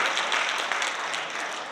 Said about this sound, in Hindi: इनके लिए सही में तहे दिल से तालियां होनी चाहिए